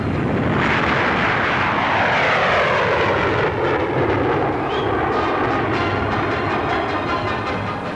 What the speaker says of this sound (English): umont, chief test pilot of English Electric, pilots the latest version of the Canberra jet bomber, which is now going into production for the RAF.